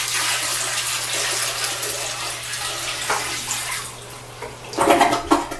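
A bucket of water pours steadily into a toilet bowl, rushing and splashing, then swirls into a gurgling flush near the end.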